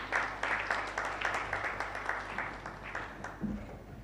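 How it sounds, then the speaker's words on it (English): A business event audience claps as a call center guest walks up on stage, a soft, fairly distant patter of applause with a steady hum beneath it. "Round of applause as he does."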